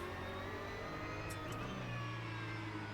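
A Porsche 992 Cup car engine in the Assetto Corsa racing game gives a faint, steady engine drone with a whirring tone that changes little over a few seconds.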